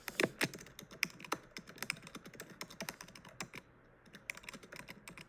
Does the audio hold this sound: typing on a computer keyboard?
yes